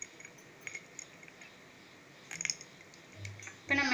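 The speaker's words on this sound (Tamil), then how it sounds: "அடுத்து இப்போ நம்ம வச்சுருக்க ஐஸ் க்யூப் போட்டுடலாம்." Ice cubes drop into a glass of lemonade being made at home, giving a few scattered clinks and a louder clatter near the end, with no talking.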